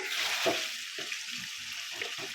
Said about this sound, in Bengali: সুন্দর করে চিকেনটা একটু কষিয়ে নিই